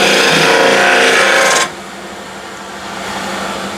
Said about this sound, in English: I'm slightly rubbing at the opening here to give me a little bit better control